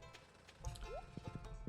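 A horse in the farming game Stardew Valley trots along with light, close clip-clopping hooves, a few soft irregular hoofbeats over quiet game ambience.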